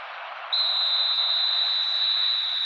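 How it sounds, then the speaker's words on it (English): A referee's whistle in eFootball PES 21 blows one long, shrill, steady blast over a soft crowd hiss and carries on to the end. "There it is, the whistle."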